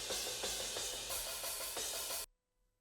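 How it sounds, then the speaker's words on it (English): Drum overhead microphones carrying only cymbals, no drum shells: a dense, bright wash of crashing and ringing cymbals for about two seconds, then cutting off abruptly to near silence. "it's just the overhead cymbals and whatever close mics"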